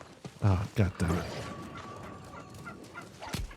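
A turkey gobbles in a video game, a burst of rapid warbling calls at the start, with a quieter stretch after and a sharp thud near the end.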